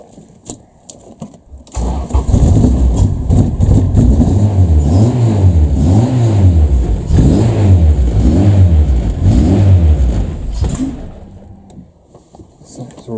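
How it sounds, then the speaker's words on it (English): Honda Civic EF engine cranking, then starting and running with a loud, steady idle that rises and dips in rhythmic surges before cutting out near the end. "So it's running, which is further than I've been previously with this ECU"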